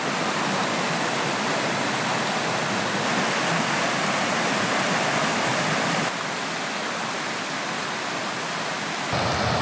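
A river swollen after rising quickly rushes in a loud, dense, unbroken roar of water, steady throughout with no voices.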